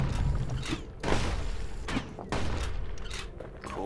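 Weapon fire in the action video game Bastion, a few punchy shots and impacts over a dense, busy game soundscape with music and effects, close and fairly loud.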